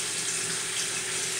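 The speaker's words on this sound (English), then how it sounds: "You turn on the warm water. Run it a little bit to get the right temperature." Warm water runs from a tap into a basin as a steady, even hiss and splash, close and continuous with no speech.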